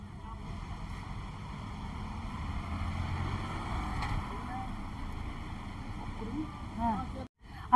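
A boat approaching on a dam lake among hills, heard as a steady distant engine hum blended with wind and water noise, with people talking nearby.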